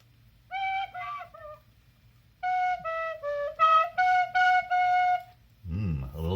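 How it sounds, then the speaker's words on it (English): A little tin whistle plays a string of short notes, then a run of longer sustained tones with gaps between them. The notes are clear and close against a quiet background, and a low rumbling sound enters at the very end. "now I found this, a little tin whistle"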